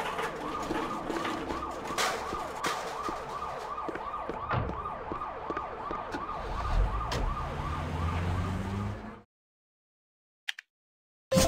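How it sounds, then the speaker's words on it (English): A video game ambulance siren wails in a steady repeating pattern over road noise for about nine seconds, then stops abruptly, followed by silence and faint clicks. "Ambulance."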